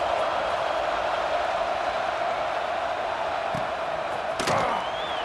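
Stadium crowd noise from EA Sports College Football 26 holds as a steady, dense roar the whole way through, with a brief sharp crack near the end and no voices over it.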